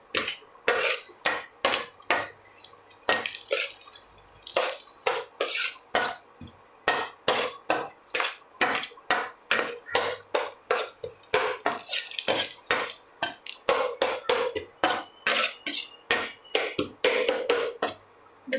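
Food is sautéed and stirred in a pan, with a spoon scraping and tapping in quick, regular strokes over a light sizzle, close and fairly loud.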